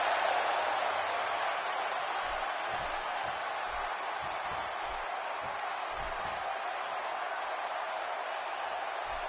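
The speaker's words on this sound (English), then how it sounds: "by the sound of this crowd, I think they're getting what they wanted" A wrestling arena crowd in a PS4 video game roars in a steady, dense wash of cheering that holds at an even level throughout, with faint low thumps beneath.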